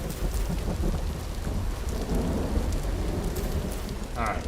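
Rain and rolling thunder in the game Vintage Story, a constant heavy downpour hiss with low thunder rumbles throughout, closing with a short tonal in-game blip.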